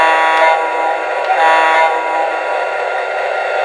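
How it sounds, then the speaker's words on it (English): A LionChief toy diesel locomotive horn sounds when triggered by its remote, a steady loud harmonic blast held throughout without pause, no talking. "You can verify that the remote is sending a signal to the locomotive by pressing the horn button."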